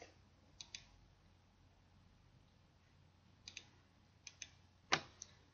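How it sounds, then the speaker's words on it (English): A computer mouse clicks sharply in a quiet room, a few isolated clicks then a quick cluster near the end, close and crisp against faint background hiss. "all I'm doing is clicking on the items that I want to change the color"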